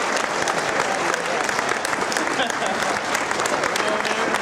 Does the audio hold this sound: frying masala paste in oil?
no